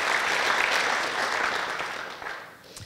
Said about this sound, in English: can we just give Reese a round of applause?